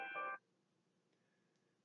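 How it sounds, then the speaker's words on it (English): A short electronic alarm sounds at the start: a bright, tonal beeping burst lasting about a third of a second, fairly loud, then cuts off into near silence. "my alarm's going off"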